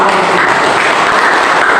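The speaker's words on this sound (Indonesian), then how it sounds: "Oke, tepuk tangan." Steady applause from a classroom group, dense and continuous clapping throughout, fairly loud and close with no talking.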